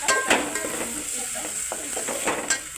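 Whole spices dry-roasting in a pan for a simple biryani, with a soft steady sizzle, a few sharp clinks and scrapes of a spoon against the metal, close and alone with no talk.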